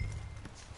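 Horse hooves clip-clop faintly and briefly in Red Dead Redemption 2, a soft muffled patter under a low rumble.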